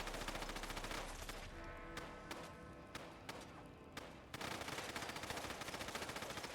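Sustained rapid automatic gunfire in the game Fallout London, a dense close rattle with a few heavier single shots punctuating it, resuming at full intensity near the end.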